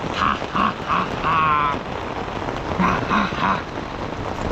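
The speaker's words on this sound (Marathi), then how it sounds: "सगळं बाहेर पाऊस बघितला बघा एकदम जोरदार पाऊस चालू" Heavy rain pours down in a steady, dense roar, with some faint repeating tones underneath.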